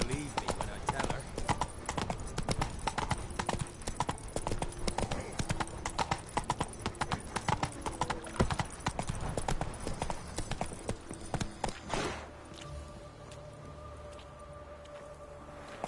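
Horse hooves clip-clop in a steady, rapid rhythm during a fantasy video game ride, loud and close for about twelve seconds, then the galloping stops and leaves a quiet background hum.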